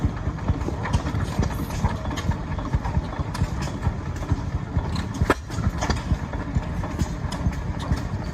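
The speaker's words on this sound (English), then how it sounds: "is a stationary internal combustion engine using a governor-controlled system" An old governor-controlled stationary internal combustion engine runs at a steady pace, its rough, rhythmic chugging close and continuous with a dense mechanical clatter.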